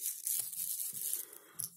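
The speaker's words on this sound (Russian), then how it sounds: "И долька шуршит." Rustling, crinkling segment of a handmade knitted baby teether toy, squeezed up close in a short continuous burst of crisp crackle with no talk.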